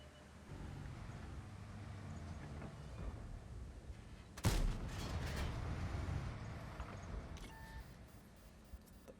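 A GSOR 1010 tank gun fires in World of Tanks: one sharp, booming blast midway, followed by a fading rumble and a couple of faint beeps, all fairly quiet overall.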